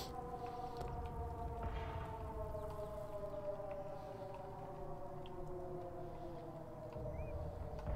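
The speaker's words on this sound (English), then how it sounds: "the air raid sirens will mask my shots" Air raid sirens wail steadily and continuously in a Sniper Elite 5 wartime mission, a sustained rising and falling drone under constant background rumble, with no speech.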